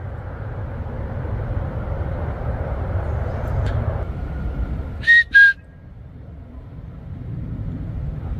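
Two short, high whistle notes sound in quick succession over a steady low rumble, faint and distant in an otherwise quiet forest.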